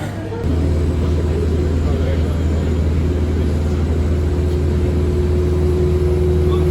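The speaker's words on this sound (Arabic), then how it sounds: "شايفين دلوقتي الصوت بتاع الطيارة اهي، الطيارة ورانا." A Flydubai airplane's engine hums at an airport gate, a steady low drone with a sustained tone that swells in after a brief moment and holds continuously, fairly loud and unbroken.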